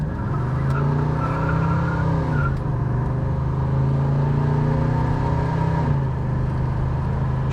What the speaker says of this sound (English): I'm going to take it around the corner here and run it through the gears a little bit.